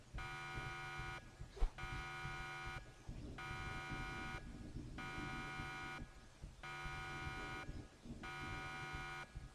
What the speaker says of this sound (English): An alarm is going off.